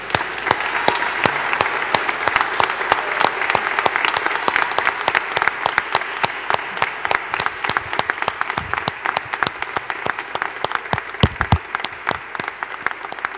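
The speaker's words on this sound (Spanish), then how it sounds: "Y ahora sí, le vamos a dar un fuerte aplauso." Steady, loud applause from a congregation fills a church during a patronal feast Mass, with dense overlapping claps and a few sharp individual claps standing out, sustained without a break.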